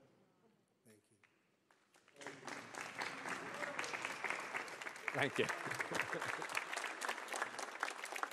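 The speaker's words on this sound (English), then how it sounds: "People are clapping." Audience applause breaking out at the close of a live Trump versus Biden presidential debate, starting after a brief spoken thanks and swelling into dense, sustained clapping from a large crowd.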